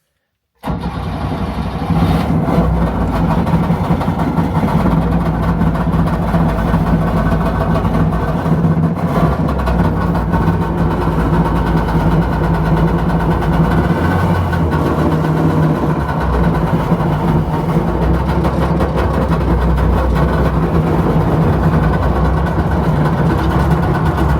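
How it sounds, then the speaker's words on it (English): Small vehicle engine with an RPM gauge, started with the choke pulled, catches after a short silence and settles into a loud, steady close-up idle that runs unbroken to the end. "And then we got the ignition, and then with that we're gonna push the start."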